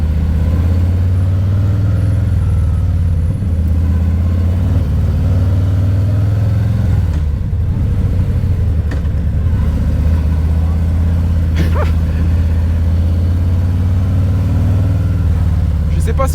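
Harley-Davidson Fat Boy 114 motorcycle from 2022, its big V-twin engine rumbling steadily while riding, a loud, deep, continuous low thrum close by with slight surges and no talk over it.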